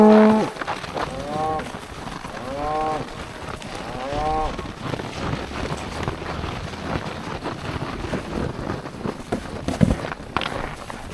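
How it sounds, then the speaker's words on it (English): Cattle low in a series of long, drawn-out moos near the microphone, with wind buffeting and scattered shuffling noise around them. "Now I'll get all these other cows out of here."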